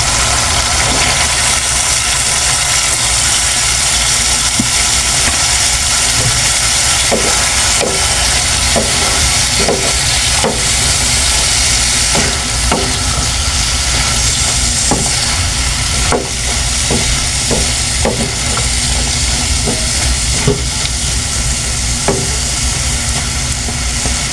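Chayote and shrimp sizzling in a pan, a constant close frying hiss broken by scattered scraping and clinking as the pieces are stirred, with no talk.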